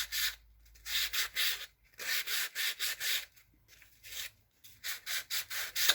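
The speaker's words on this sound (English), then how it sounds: "we're going to take a bit of fine sandpaper and just sand the edges of it" Fine sandpaper rubs along wood edges in close, even back-and-forth strokes, grouped in bursts with short pauses between them, with no voices.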